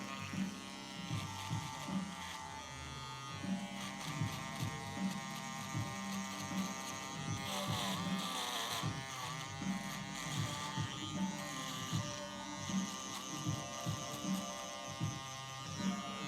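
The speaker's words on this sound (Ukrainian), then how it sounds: "Беремо шейвер." An electric shaver runs with a steady buzzing hum for the whole stretch, its low drone pulsing unevenly, no voices present.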